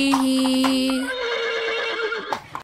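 A horse neighing in a children's farm animal song, a loud, close whinny with a high quavering pitch that slides down and trails off, followed by a short snort-like burst.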